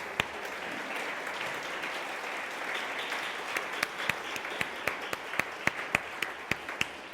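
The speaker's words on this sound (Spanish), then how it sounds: "¿Puedes darle un aplauso a los papás que están aquí?" A church congregation claps for the fathers present, a steady wash of applause that thins toward the end into a few sharp, distinct claps from nearby hands.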